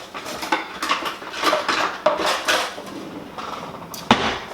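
Metal spoon scraping and clinking inside a cooking pot of noodles and tomatoes, a steady run of close, moderately loud stirring clatters with a sharper knock near the end.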